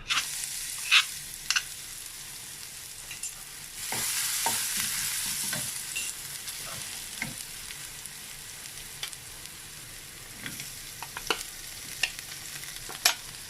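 Whole peppercorns crackle and sizzle in hot oil for a catfish stir-fry, a steady bright hiss dotted with sharp pops and occasional stirring taps, close and continuous throughout.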